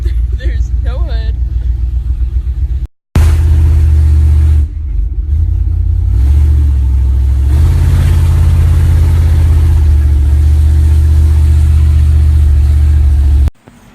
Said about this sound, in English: We got a test drive in it and it drove okay.